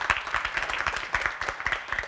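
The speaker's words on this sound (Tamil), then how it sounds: "அவருக்கு ஒரு நல்ல கைத்தட்டல் கொடுத்துடலாம்" An audience claps together in a brisk, steady round of applause, dense and fairly close, with no voices over it.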